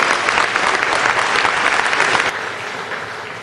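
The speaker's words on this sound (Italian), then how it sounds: "Un applauso." Audience applause at a Miss Ciclismo pageant pre-final, loud continuous clapping from a crowd that drops in level partway through and carries on more softly.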